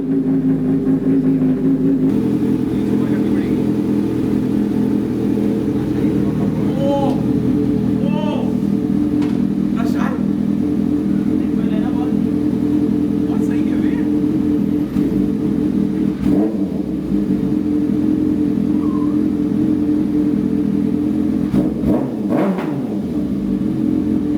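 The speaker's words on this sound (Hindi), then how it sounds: "ये तो थी सारी सुपर बाइक्स" Superbike engines rumble and idle loudly and continuously nearby, with occasional revs and clattering, while voices talk over the engine noise.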